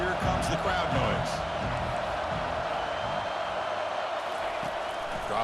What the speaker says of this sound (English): And here comes the crowd noise.